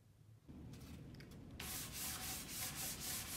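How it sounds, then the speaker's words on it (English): Steady hand scuff sanding with 220 grit sandpaper on a wooden table, a soft rhythmic scratchy rubbing that grows louder and more regular partway through, close up and alone. "Scuff sanding is a light sand that is going to smooth out all of the imperfections"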